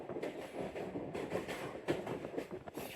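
Shalimar Express passenger train rolling along rails on a branch line in Pakistan between Lahore and Multan, heard from onboard as a steady rumble with faint rhythmic clicks and rattles, fairly quiet, no talking.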